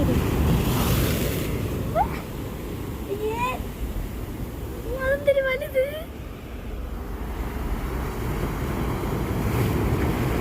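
Sea waves breaking on the shore during ultralight fishing, a continuous rushing surf with wind buffeting the microphone, and people talking over it midway.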